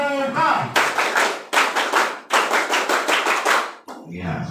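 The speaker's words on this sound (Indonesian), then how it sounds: "Tepuk pramuka." Junior high school students perform a Scout-style rhythmic clap in loud, tight bursts of quick claps separated by short pauses, with a voice speaking just before and after.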